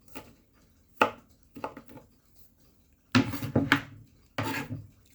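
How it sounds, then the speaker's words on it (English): A knife chopping ingredients finely on a board for a meat topping, with sharp, irregular knocks that come singly and then in quicker bursts, close and crisp against a quiet room. "Chop this real fine."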